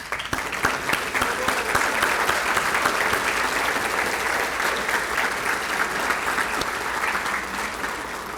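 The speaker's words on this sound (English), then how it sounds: "let's stand up and give them a round of applause" Steady, enthusiastic applause from a large audience fills the room, sustained clapping at even loudness throughout.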